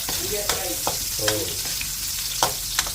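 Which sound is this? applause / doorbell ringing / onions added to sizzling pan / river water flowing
onions added to sizzling pan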